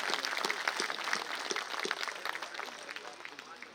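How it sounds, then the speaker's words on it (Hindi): A crowd at a Hindi poetry gathering claps together in a dense, steady burst of applause that fades slightly toward the end. "एक बार तालियां बजाइए।"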